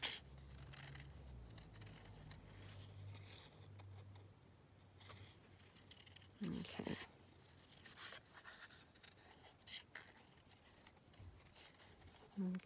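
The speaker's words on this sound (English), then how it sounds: "Let me just cut this one out." Scissors snip through paper while a paper butterfly is cut out for a junk journal, with soft close rasping and rubbing at a faint level and a few quiet sounds of handling.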